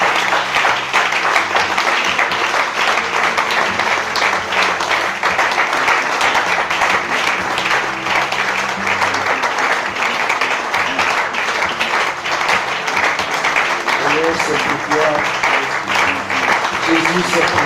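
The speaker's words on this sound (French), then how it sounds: "Est-ce qu'on peut acclamer le Seigneur?" A church congregation claps and cheers together in praise, a dense, loud, continuous wash of applause and voices that holds steady throughout, with music underneath.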